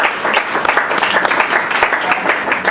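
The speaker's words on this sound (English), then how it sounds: "Let's give another round of applause for all the student presenters, MCAs, parents, administrators, teachers." Audience at a school Shark Tank-style student presentation event applauding, a dense continuous wash of many hands clapping at steady loudness throughout.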